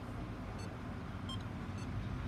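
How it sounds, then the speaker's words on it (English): Road traffic from a busy street rumbles steadily in the background, a continuous low hum with a few faint higher beeps from nearby vehicles. "You hear that traffic in the background"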